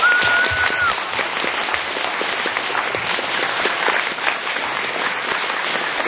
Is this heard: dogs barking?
no